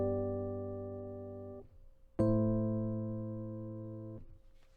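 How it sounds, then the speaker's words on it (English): Two sustained keyboard chords in a V to vi deceptive cadence: a first chord rings and fades, then after a brief gap a second chord strikes and decays, quiet and alone. "A deceptive cadence would sound like this."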